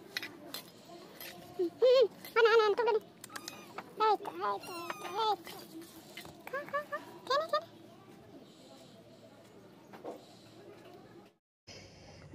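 Pet cats meow repeatedly for a bowl of rice mixed with potato curry, close by and clear, with short meows in bursts between pauses and someone talking in between.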